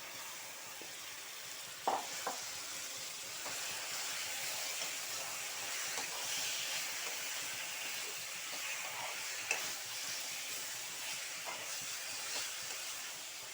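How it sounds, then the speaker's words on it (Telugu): Marinated chicken frying in a hot pan for a chicken and raw mango curry, a dense, hissing sizzle that stays steady, with a couple of sharp clatters early as the pieces go in. "ఒక గంట మ్యాగ్నేట్ చేసి పెట్టుకున్న చికెన్ వేసేస్తున్నాను."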